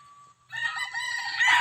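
A rooster on a farm crows loudly and close, one long crow with no other sounds around it.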